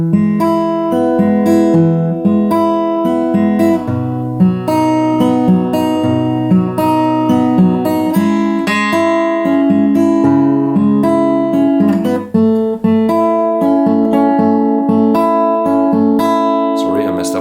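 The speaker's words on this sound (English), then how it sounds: "we do that picking pattern twice on each chord, so it sounds like this, really slowly" An acoustic guitar plays a slow fingerpicked pattern over held chords, each note ringing clearly and evenly, close and loud with no talking over it.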